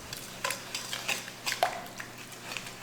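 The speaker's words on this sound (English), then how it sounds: "give that a stir around" Butter, vanilla and sugar stirred in a bowl for zucchini, date and oat muffins, a spoon scraping and clinking in irregular strokes, moderately close with no voices.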